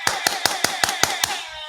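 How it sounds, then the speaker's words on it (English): About eight sharp, evenly spaced hand claps in quick succession, close and crisp, from a small group or a single person on a talk-show podcast, with no voices over them. "Round of applause for Trent hitting the nail."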